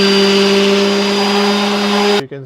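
A loud power tool sanding plastic whirs steadily with a constant hum, then cuts off abruptly near the end, leaving a brief murmur.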